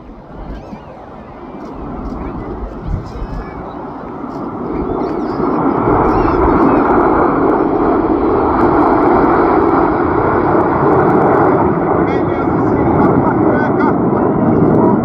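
A loud, roaring jet engine from a Sea Vixen at the 2025 Cosford air show builds up and then holds a steady, heavy rumble overhead. A voice talks faintly beneath it.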